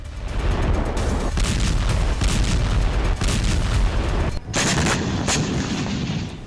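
Israeli bombing strikes on a town in southern Lebanon produce loud, continuous explosive blasts: dense rumbling booms and cracking bursts that keep going for several seconds, with a brief dip before sharper hits near the end.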